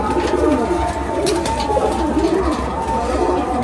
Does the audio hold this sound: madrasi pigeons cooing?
yes